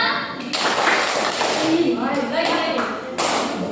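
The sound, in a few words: children clapping hands in rhythm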